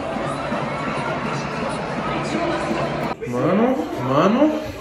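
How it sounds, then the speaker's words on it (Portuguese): A Corinthians stadium crowd cheers and chants at halftime, a dense roar of many voices with rising sung phrases near the end, while voices talk close by. "A torcida ali tá animada, hein, velho?"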